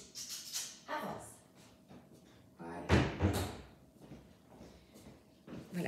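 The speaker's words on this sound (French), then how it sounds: "je vais ouvrir à mon chat parce qu'il va griffer la porte" A house door opens to let a cat in, with a thud and rattle of the door amid soft nearby voices and scattered knocks.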